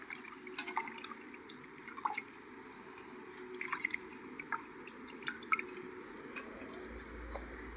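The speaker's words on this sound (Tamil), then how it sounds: "அதை நல்லா சுத்தமாக அலசி எடுத்துக்கலாம்." Mint leaves are rinsed by hand in water while making masala papad: soft, quiet dripping and squishing sounds that come in small uneven bursts, close by, with no speech.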